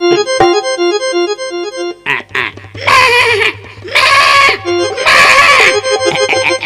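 A goat bleats loudly three times in wavering cries, with a sustained droning tone and brief clatter in the background.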